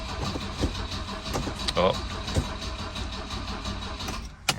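A restored 1967 Volvo Amazon wagon with Mikuni carburettors cold-starts and sputters unevenly, its engine firing in rough bursts before faltering and dying out. A brief exclamation is heard.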